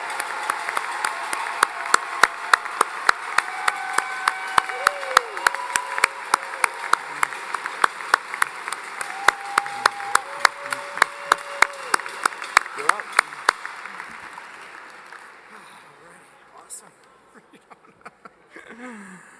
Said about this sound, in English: join me again in another round of applause for the graduating class